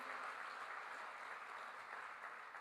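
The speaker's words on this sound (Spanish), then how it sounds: "Dele un fuerte aplauso al Señor." A church congregation applauds during a Spanish-language service, a faint but steady wash of many hands clapping for a couple of seconds with no voices over it.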